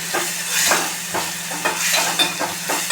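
Cauliflower curry with peas and tomato is stirred in oil in a village kitchen after salt and chili go in, giving a bright hiss and repeated close scraping strokes.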